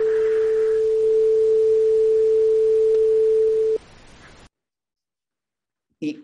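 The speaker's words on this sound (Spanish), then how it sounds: "Esta es la nota La, pero una nota La con un ruido, pero ya no va a tener un ruido desordenado, va a tener un ruido con un patrón." Sustained musical note A as a pure steady tone layered over an even hiss of patterned noise, lasting several seconds before cutting off abruptly, followed by silence and a brief noisy burst.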